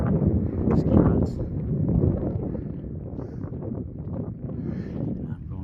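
Wind gusting and buffeting the microphone on a high mountain trail near the tree line, a steady low rumble with strong surges around the first and second seconds, then easing slightly.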